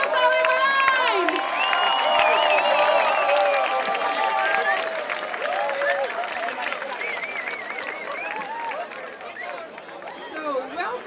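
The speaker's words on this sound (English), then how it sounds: "give them a big applause to two of the project leaders of Roverway, Ilko and Martijn." A large crowd at the Roverway 2018 scout gathering's opening show in Zeewolde claps and cheers loudly, with whoops and shouts over dense, continuous applause that slowly fades.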